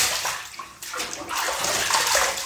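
Water splashing and pouring in a bathtub as hair and neck are rinsed, a loud close wash of running water with a brief dip partway through before it swells again, with no talk.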